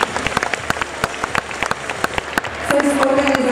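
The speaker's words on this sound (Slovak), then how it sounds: "Takže toto je potlesk pre vás" Audience applause at a Latin dance championship final, scattered then thicker clapping from a crowd, with a voice speaking over it and a tone entering near the end.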